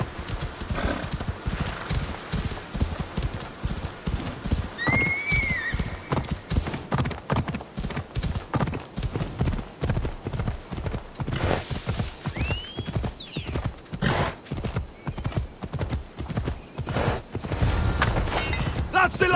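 Horse galloping in Assassin's Creed Odyssey, a steady rapid clip-clop of hooves throughout with a couple of short neighs breaking through midway, under game music and ambient noise.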